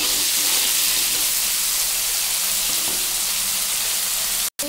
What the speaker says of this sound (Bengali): সেই তেলেই আমি আলুর টুকরোগুলো দেখো ছেড়ে দিয়েছি।